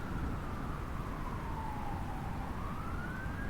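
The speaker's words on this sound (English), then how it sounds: "which includes horns and sirens" Video game city ambiance: a wailing emergency siren sweeps slowly down and back up over a steady, dense wash of urban traffic rumble, loud and continuous with no talking.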